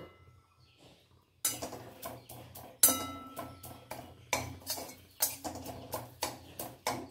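A utensil stirs ingredients roasting in a pan with a steady run of sharp clinks and scrapes against the metal, after a quiet start.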